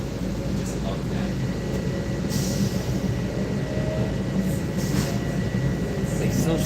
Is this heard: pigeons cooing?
no